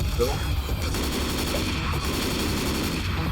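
Shotgun fire and other weapons in the Left 4 Dead 2 video game make a dense, loud barrage of repeated shots that goes on without a break.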